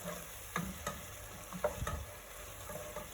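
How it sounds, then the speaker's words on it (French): A sauce bubbles and sizzles in a pan over high heat, with faint steady frying and a few soft stirring knocks and clicks, no voices. "Après 10 minutes de cuisson à feu fort, voilà ce que ça donne notre sauce."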